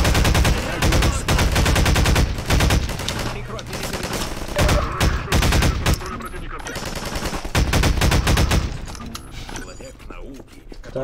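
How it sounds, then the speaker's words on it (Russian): Dense, rapid bursts of automatic gunfire in the video game Half-Life 2 ring out nearly nonstop, loud and close, with brief pauses and a few shouted voices mixed in. "Стреляй, Гордон!"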